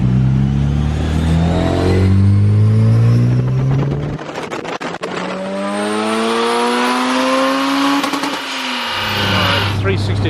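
Honda S2000 with a titanium exhaust on its first turbocharged tuning run, the engine revving hard through rising gears with a brief shift gap, loud and close with a raspy exhaust note, and a voice heard over it.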